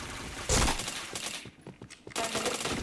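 Rapid bursts of video game shooter gunfire crack and rattle up close, with a heavy volley at the start, a brief lull, then renewed sustained firing.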